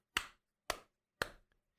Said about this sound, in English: So this is high fiving myself